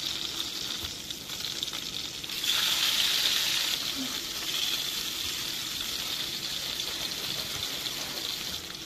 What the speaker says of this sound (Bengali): মাছ দেওয়ার সঙ্গে সঙ্গে উল্টাতে নেই, একটুখানি তেলে রাখার পর গাটা শক্ত হয়ে গেলে তারপরে উল্টাতে হবে।